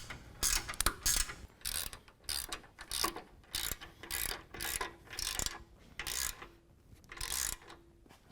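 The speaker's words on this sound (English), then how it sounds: "We're going to be using a 9/16 wrench." Ratcheting clicks from a 9/16 wrench tightening lift kit bolts on a 2017 Silverado 2500 HD, heard as bursts of quick repeated clicking separated by short pauses, fairly close and moderately quiet with no talking.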